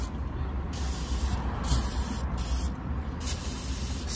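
Several short bursts of aerosol brake cleaner spray hiss in quick succession, close and sharp, inside a truck rear differential, with a low mechanical rumble underneath.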